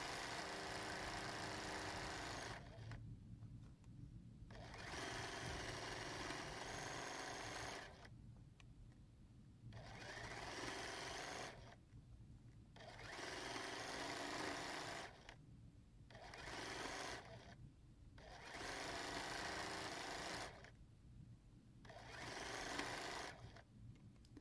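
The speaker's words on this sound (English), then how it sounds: "we'll bring this over to the sewing machine and sew this seam with a 1/4 inch seam allowance" A sewing machine stitches a quilt seam in several runs, each a steady mechanical whir lasting a few seconds, separated by short pauses where the motor stops, close and fairly quiet.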